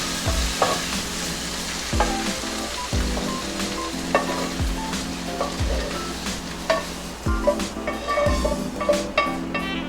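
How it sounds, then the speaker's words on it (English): Vegetables frying in sweet and sour sauce for sweet and sour chicken bubble and sizzle steadily, with repeated spoon knocks and stirring scrapes against the pan, up close. "Now I'm going to start putting my veggies in."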